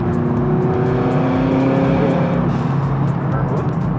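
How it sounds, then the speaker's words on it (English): A turbocharged Subaru BRZ making around 300 wheel horsepower drives hard from inside the cabin, its engine droning loudly and steadily. Toward the end a brief whooshing release comes through, and a faint voice is audible beneath the engine. "That turbo spar blow-off valve just sounds so beautiful."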